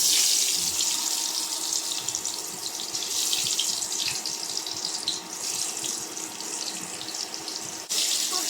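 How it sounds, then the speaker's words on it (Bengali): Tap water runs steadily into a kitchen sink while pangas fish is washed, a continuous close splashing hiss with small shifts as the flow hits the fish, and a brief break near the end. "পাঙাশ মাছটা ধুয়ে যাবো, ধুয়ে নিয়ে আসি"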